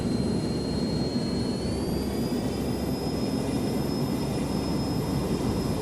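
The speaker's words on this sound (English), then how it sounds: "Looks like we got a good engine start there." Beechcraft King Air turboprop engine starting in Microsoft Flight Simulator, a steady loud whooshing roar with a high turbine whine rising in pitch, continuous and alone.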